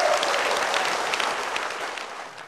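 Studio audience claps for a singer on a music game show: a short, steady burst of dense applause that gradually tapers off over a couple of seconds.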